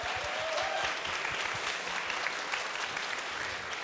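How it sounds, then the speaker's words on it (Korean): A crowd at the final of a KartRider esports league claps in a dense, even burst of applause, loud and sustained for a few seconds with no clear voices. "다시 한번 큰 박수 부탁드리겠습니다"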